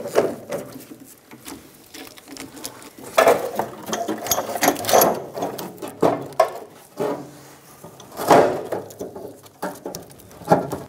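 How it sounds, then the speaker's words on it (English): A ratchet with a 13mm socket removes a fuel tank strap bolt on a 2000-2007 Ford Focus, giving repeated clicking ratchet strokes in short uneven bursts, close and clear with pauses between turns. "Using a 13mm socket, remove the bolt for the tank straps."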